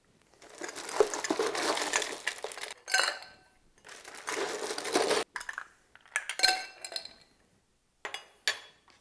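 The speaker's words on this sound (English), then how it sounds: "And then add our ice." Ice cubes tumble and clatter into a cocktail mixing glass for a martini in several loud crunching, clinking bursts with short pauses between scoops.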